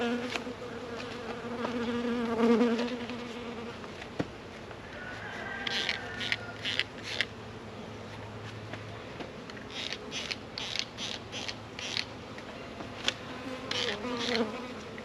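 Honey bees buzzing close by while being installed from live packages, a steady hum with louder swells as individual bees pass near, plus scattered light clicks and taps.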